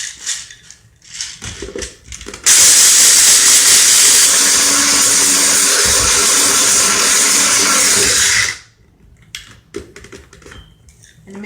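Chickpeas being ground into flour in a grinder, a loud, steady, hissing whir that runs for about six seconds and stops abruptly, with quieter handling clatter before and after.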